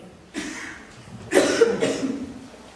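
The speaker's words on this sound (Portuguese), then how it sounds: "Desde ontem começou uma tosse." Two or three dry coughs from one person nearby, in short bursts with a brief pause between them, against a quiet room.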